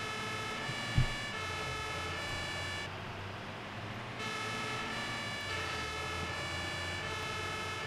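A fire engine siren in the Emergency Call 112 firefighting simulation game wails steadily and close, with a brief drop in tone partway through and a short thump near the start.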